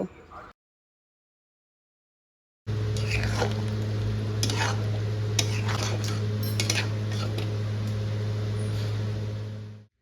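A spoon scrapes and clinks in a pan as chitol fish muithya is stirred with chopped coriander, garam masala and whole green chillies. The clinks come over a steady kitchen hum after a brief silent gap.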